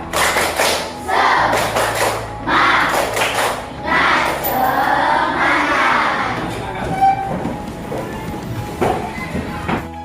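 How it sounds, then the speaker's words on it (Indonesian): Schoolchildren at an elementary school in Pontianak clap out a rhythmic spirit cheer, sharp claps in patterned bursts close by in a classroom, with voices chanting along over the clapping. "Tepuk semangat."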